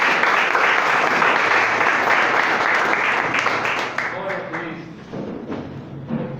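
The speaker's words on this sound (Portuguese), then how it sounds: "Aplaudo o Senhor." Church congregation clapping loudly at a Portuguese-language service, the applause thinning and fading toward the end while a few voices and stray claps remain.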